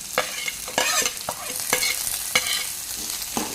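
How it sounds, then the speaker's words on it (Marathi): Green chillies sautéing in hot oil, a steady sizzle broken by repeated scraping stirs of a spoon against the pan, close and clear with no voices. "ओली मिरची दोन ते तीन मिनिट मी आता परतून घेणार आहे"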